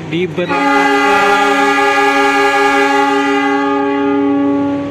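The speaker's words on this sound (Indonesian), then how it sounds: "diberangkatkan kereta api Gunung Jati dari stasiun Cirebon" The Gunung Jati train at Cirebon station sounds a long, loud, sustained horn blast that holds steady for several seconds after a brief stutter at the start, with a voice briefly audible underneath.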